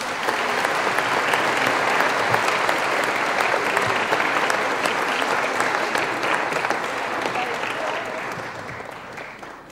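A church congregation claps together in a sustained, even round of applause that fills the hall for several seconds before easing off at the end.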